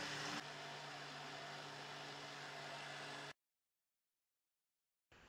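An electric mixer beating cookie batter, a steady mid-pitched motor whir that holds level for about three seconds, drops out into silence, then starts up again briefly at the end.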